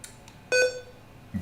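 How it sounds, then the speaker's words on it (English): A single electronic computer beep sounds right after the power button is pressed, a short clear tone with harmonics, alone in a quiet room. "Beep."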